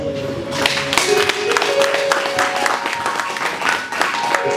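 A gala audience claps and applauds steadily, a dense patter of hands lasting the whole time with a few louder peaks.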